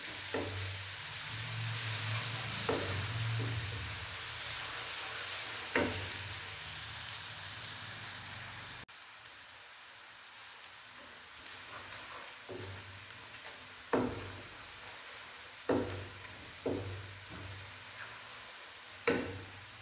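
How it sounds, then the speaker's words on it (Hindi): Crushed garlic and ginger fry in oil for dhaba-style aloo gobi, a soft continuous sizzle broken by occasional stirring scrapes and clinks of a spoon against the pan, with no talking. "अब हम इसमें लहसुन और अदरक जो कुटा हुआ है वो ऐड करेंगे। इसे भी हम लाइट ब्राउन करेंगे।"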